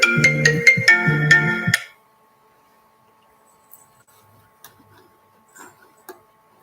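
A phone ringtone plays a bright, rapid melodic pattern for about two seconds and then cuts off, leaving near silence with a few faint ticks and clicks.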